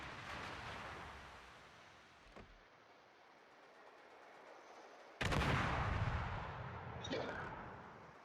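An enemy destroyer's secondary battery guns fire in a naval battle video game: a few heavy, booming bursts, the loudest landing sharply partway through, each trailing off into a rumbling tail.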